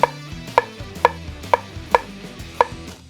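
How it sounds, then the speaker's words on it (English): A knife chops cabbage on a cutting board in steady, evenly spaced knocks, six clear close hits over a low background hum, with no talking. "I'm going to chop this, not too fine, but I do want it pretty small"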